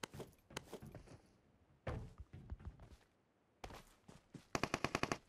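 In the mobile battle-royale game PUBG Mobile, automatic weapons fire in several quick bursts of rapid shots with short gaps between them, fairly faint overall and with no talk.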